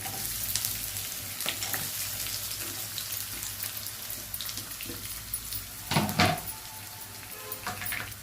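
Green chillies and onion fry in a pan for masala dal, giving a steady close sizzle throughout with a few louder crackling bursts near the end; no one speaks.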